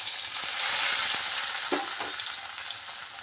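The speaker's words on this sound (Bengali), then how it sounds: "এই যে বেগুনটা ভেজে নিচ্ছি, এর মধ্যে একটু লবণ মেখে রেখেছিলাম।" Salted eggplant slices frying in hot oil, a steady close sizzle with a couple of soft spatula scrapes midway and no talking.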